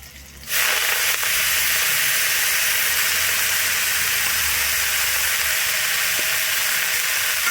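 Chopped khesari (grass pea) greens hit hot oil already crackling with a green chilli tempering in a village kitchen, bursting into a loud, steady, close sizzle and hiss of steam that holds for several seconds with no talking.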